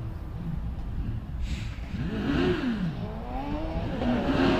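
Caroline Ryder's Porsche Suzuki hillclimb race car accelerates at Prescott, its engine revving up through rising and falling sweeps in the mid-distance as it pulls away and climbs.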